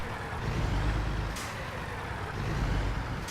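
A heavy truck in American Truck Simulator rumbles at low speed while reversing, with a short hiss of air brakes twice over a steady engine drone.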